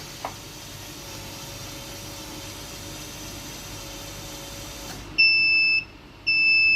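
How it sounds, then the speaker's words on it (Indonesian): A microcontroller system's buzzer sounds in two sharp, loud electronic beeps after a stretch of low hum, each a sustained steady tone. "ketika tidak ada barang yang tersensor, buzzer juga akan menyala"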